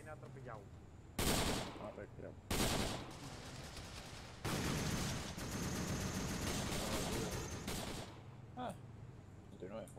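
Gunfire from a Vietnam War video game, with several loud broadband blasts at irregular intervals over steady battle noise, one long sustained burst in the middle; voices are heard faintly underneath.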